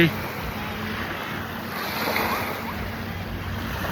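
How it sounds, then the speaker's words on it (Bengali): Lake water washes and laps continuously near a shore where small rental boats are out, a steady close rush mixed with wind noise across the microphone. "ঢেউ ভেসে আসছে,"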